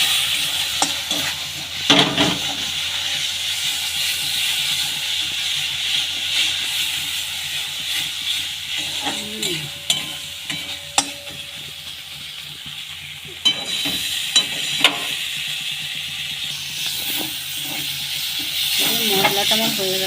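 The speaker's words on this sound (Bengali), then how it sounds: "জিরে গুঁড়িটা দিয়ে ভালো করে মিশিয়ে নেব।" Spiced egg and potato curry masala stirred after cumin powder goes in, a soft continuous sizzle with scattered spoon scrapes and clinks against the pan, a couple of louder knocks standing out.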